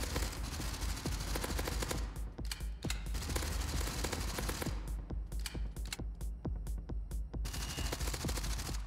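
Rapid bursts of turret gunfire in the Gunpunk shooter game, sustained automatic fire with clattering mechanical tones, loud and dense throughout with brief gaps between volleys.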